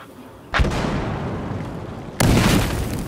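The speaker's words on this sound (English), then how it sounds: "Threw a grenade back!" Two heavy booms in the Battlefield Hardline video game, a grenade explosion landing with a sudden loud blast, its rumble holding, followed by a second, louder blast two seconds later.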